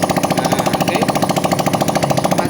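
Honda Beat motorcycle engine cranking on its electric starter, a fast, steady mechanical chatter held close and loud across the whole stretch without pause.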